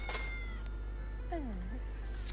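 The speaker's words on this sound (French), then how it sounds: "Chat." A cartoon cat meows in the video game Kitty Power's Matchmaker, a single short rising-falling meow over steady background game sound.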